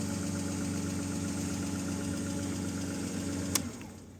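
A BMW E36 engine idles after a push-button start with a steady, rumbling mid-pitched drone and faint rhythmic ticking, then a click as it cuts off and the sound quickly dies away.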